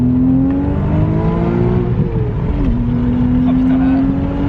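An Audi RS4 tuned to about 700 horsepower pulls hard, its engine droning loud and close with a rising then shifting tone, a voice briefly heard beneath the roar.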